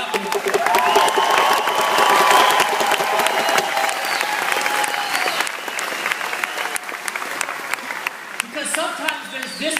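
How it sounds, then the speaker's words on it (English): An audience claps in a steady, loud round of applause, with cheering and a whistle-like tone rising over it early on, then thins toward the end as voices and crowd noise come through. "Give her a round of applause for putting up with it."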